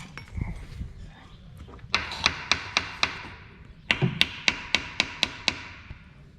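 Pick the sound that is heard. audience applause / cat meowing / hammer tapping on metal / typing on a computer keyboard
hammer tapping on metal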